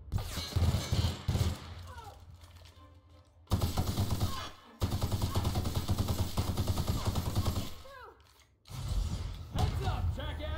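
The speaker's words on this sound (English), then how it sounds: "Heavy machine gun zamanı sanırsam." Heavy machine gun firing in bursts in The Outer Worlds, loud rapid rattling volleys separated by brief pauses, with thuds and mechanical clatter between them.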